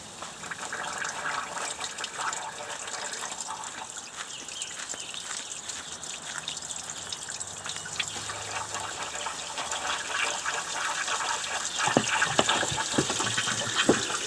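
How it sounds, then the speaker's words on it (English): Water gushes steadily through the cooling hoses of a jet ski found secondhand and being revived, a continuous close splashing flow with no speech that grows slightly louder toward the end. "those hoses are flowing really nice. This hose is flowing good."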